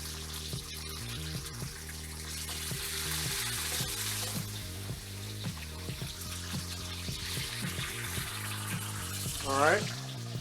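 Chicken searing in a hot pan for teriyaki: a steady, bright sizzle runs throughout beneath background music and occasional clatter.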